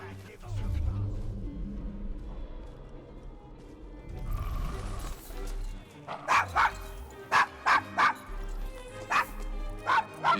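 A dog named Desmond barks and yips in a street of the Devil's Acre in Assassin's Creed Syndicate, a series of sharp close barks in an irregular run after quieter whimpers and background game ambience.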